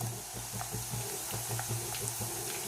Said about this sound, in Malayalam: വെളുത്തുള്ളി ഇഞ്ചിയും എണ്ണയിൽ കിടന്ന് നന്നായിട്ടൊന്ന് മൂത്ത് വരണം